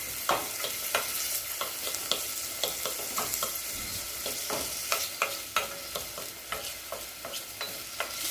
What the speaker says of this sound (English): we're just going to mix the onion around